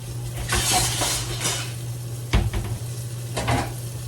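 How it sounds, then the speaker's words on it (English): Steady sizzling of food frying in a pan, with a few scraping stirs and light metallic clinks from a utensil. "We got the last bit of the chicken over here in the frying pan."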